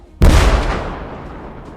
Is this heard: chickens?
no